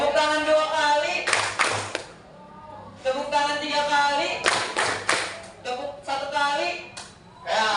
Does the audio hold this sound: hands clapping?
yes